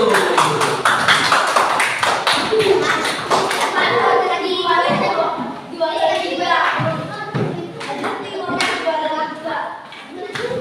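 Fourth-grade classroom clapping hands together after a group answer, a busy patter of many small hands with thumps, mixed with children's voices and a teacher talking over it.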